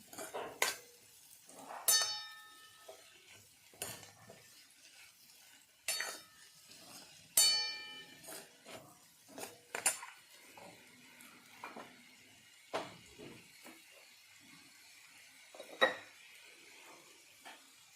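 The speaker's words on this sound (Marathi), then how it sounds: "आता याला मी छानपैकी मिक्स करून घेणार आहे सर्व मसाले आपल्या दोडक्याला लागेल असे आपल्याला इथे मिक्स करून घ्यायचं आहे" Spices being mixed into ridge gourd with dal in a pan: a faint, sparse run of spoon scrapes and metallic clinks against the cookware, with quiet gaps between the knocks and no talk.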